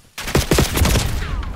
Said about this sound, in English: I'm shooting them and they're not going down